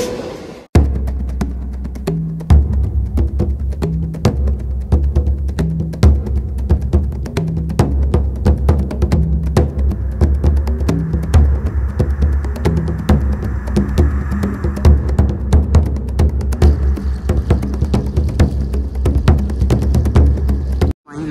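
A fast train passes close by beside a stopped train near Mahbubabad railway station, giving a loud continuous rumble with rhythmic low throbbing from the wheels for about twenty seconds; nobody speaks.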